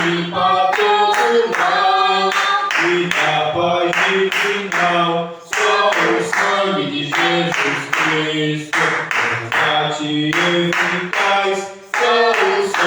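A church congregation claps their hands in rhythm during a worship song, steady loud claps layered under singing voices and music that carry on throughout.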